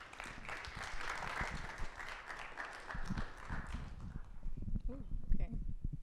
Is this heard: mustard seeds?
no